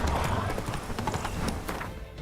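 Hooves of the horse Roach clip-clop in The Witcher 3, a quick, fairly close rhythm of hoof strikes with a faint whinny, under some talk.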